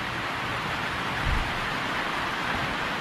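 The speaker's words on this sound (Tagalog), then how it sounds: "Matinding ulan to." During a typhoon, heavy rain pours onto a rooftop as a steady, dense roar of broadband hiss. One soft low thump rises briefly above it.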